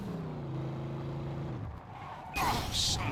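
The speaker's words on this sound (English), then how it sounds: "Tried the handbrake, and like I said, I'm just gonna slide across the freaking map" A car in Mafia II: Definitive Edition goes into a handbrake slide: a steady engine drone drops off, then a bright, close tire screech and scraping skid bursts in near the end, with no talk over it.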